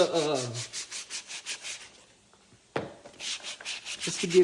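Sandpaper rubbing over a brand-new Vans OTW sneaker from the Dyneema collab, prepped for glue as a DIY bowling shoe: steady rhythmic back-and-forth strokes, close and fairly loud, pausing briefly before a sharp knock and another run of strokes.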